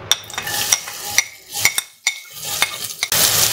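Onions dropped into hot oil in a pressure cooker, uneven sizzling mixed with clinks and scrapes of a utensil against metal, ending in a louder burst of frying.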